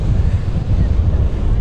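Steady, loud wind buffets the microphone at a Costa Brava beach in Empuriabrava on a warm late morning, a continuous low roar filling the whole stretch with possible surf underneath.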